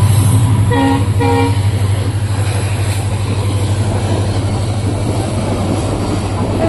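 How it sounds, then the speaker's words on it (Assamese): A train roars past up close, loud and continuous with a rhythmic low clatter, and two short horn blasts sound near the start. "পুৰা ট্ৰেইন গৈ আছে"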